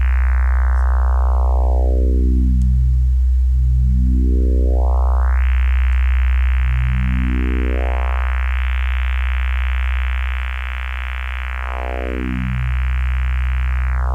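A Fenix IV synthesizer in pulse train mode plays a bright buzzy tone over a deep sustained bass, its harmonics sweeping down, up, down and up again in slow filter-like glides.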